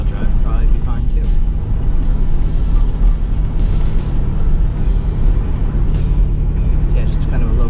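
A 2023 Ford Bronco Raptor rolls along a snowy road in four-wheel-drive auto mode, its steady engine and tire rumble filling the cabin while someone talks over it.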